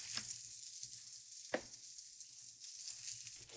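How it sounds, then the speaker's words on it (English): Pierogi searing on one side in a pan make a soft, steady sizzle with an occasional faint scrape as they are moved around. "These ones we are gonna pan fry."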